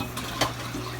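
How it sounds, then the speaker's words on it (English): Tap water running into a pot for cooking noodles, a steady, close rushing hiss with brief splashy surges, no voices. "Gotta get a lot of water for the noodles."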